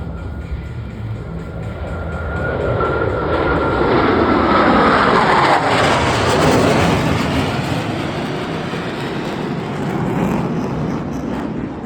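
Blue Angels jets fly low at an air show and break apart in individual brake turns, a loud rising jet roar that swells to a harsh peak mid-pass, then sweeps away and lingers.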